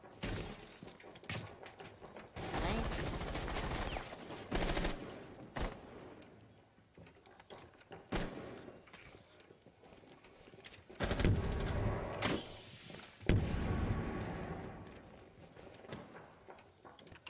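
Grenade blasts and sharp impacts in Rainbow Six Siege gameplay, heard as several loud bursts of explosive noise with shattering debris, separated by quieter stretches and scattered gunfire.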